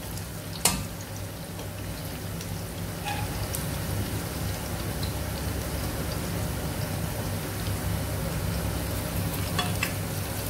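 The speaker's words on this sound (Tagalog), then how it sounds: "Wait until caramelize the onion." Onions sizzle and fry steadily in a hot pan for a Filipino mung bean stew with crispy pork belly, a continuous crackling hiss with scattered pops, close and fairly quiet, with no talking.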